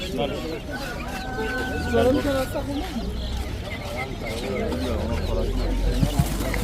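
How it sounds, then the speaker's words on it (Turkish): Iranian-breed chickens cluck and chatter close by in a busy, irregular stream at a bird market in Adana, with a rooster-like call mixed in and people talking underneath. "İran tavuğu. İran tavuğu."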